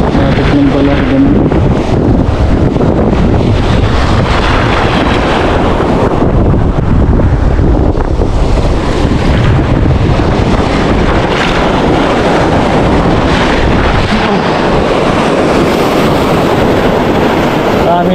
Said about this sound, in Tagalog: Maraming lakas ng alon, mga bari.